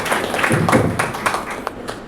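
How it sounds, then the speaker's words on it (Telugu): Scattered clapping from a church congregation during a Christmas celebration, a loose ripple of hands lasting about two seconds at moderate volume, with faint voices underneath. "అందరం కూడా కృతజ్ఞతలు తెలియజేస్తూ చప్పట్లు కూడా"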